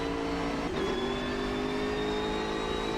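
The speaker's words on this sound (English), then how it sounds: "you've got that big V8 engine up the front, twin turbo, loads of power" A BMW M6 GT3 race car with a front-mounted twin-turbo V8 of about 500 horsepower in the sim game Automobilista 2, droning steadily at a held engine note with a brief shift-like blip early on.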